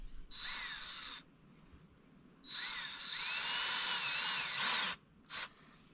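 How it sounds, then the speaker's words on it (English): Power drill pre-drilling holes in wood during a building job, with three loud whirring bursts that rise and fall in pitch, the second one long, then a short final blip, over quiet background. "yeah, pre-drill this."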